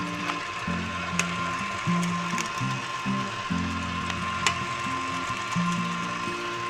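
An electric stand mixer beats ice cream batter, a mechanical whir with rhythmic, stepping gear tones that rise and fall as the beater turns, close and alone.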